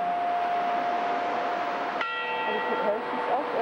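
Church bells in a German town ring out partway through, a resonant struck tone with lingering overtones heard at a distance over street ambience and a steady background tone.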